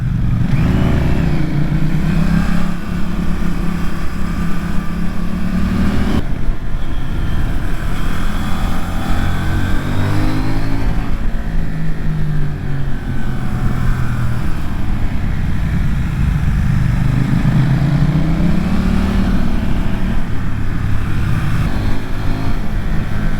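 A CF Moto NK800 motorcycle ridden along a mountain pass road, its engine droning loud and steady throughout with rising and falling revs as it accelerates and eases off.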